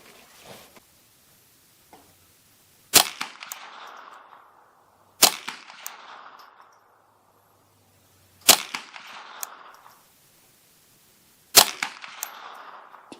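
Four loud, sharp .22LR rifle shots ring out from a custom Ruger 10/22 loaded with old Winchester Wildcat ammunition, spaced about two to three seconds apart, each followed by a short outdoor echo fading into quiet.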